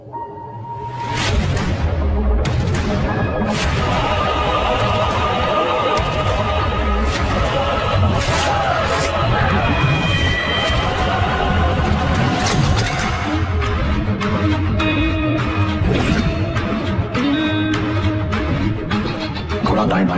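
A horse neighs and whinnies repeatedly, loud and close, with shrill calls rising and falling over a dense, busy background of rustling and thuds that runs the whole time.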